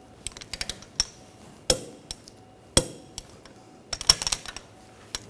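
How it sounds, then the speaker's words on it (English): Control arm bolts on a Ford Escape are tightened with a torque wrench to 85 foot-pounds, giving sharp, irregular metallic clicks and taps spaced through a quiet garage. "Now we're going to torque these bolts to 85 foot-pounds."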